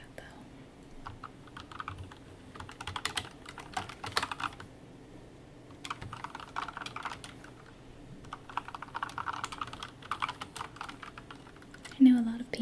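Fingers type on a Corsair K70 Lux RGB mechanical keyboard in close, crisp bursts of clacking keystrokes separated by pauses, with soft whispered talk in between.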